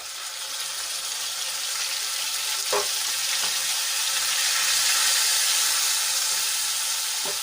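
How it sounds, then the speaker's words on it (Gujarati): Grated onions sautéing in hot oil with ginger, garlic and green chili paste, a loud, steady crackling sizzle throughout with a few faint stirring clicks, close up and no talk. "અને સરસ રીતે આપણે એને તેલમાં મિક્સ કરી લઈશું અને ગોલ્ડન બ્રાઉન થાય ત્યાં સુધી આપણે એને સાંતળી લેવાની છે"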